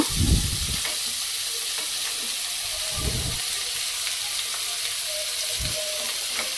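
Potatoes and vegetables sizzling in hot mustard-seed tempering, a steady close frying hiss with a few louder bursts as pieces are dropped into the pan.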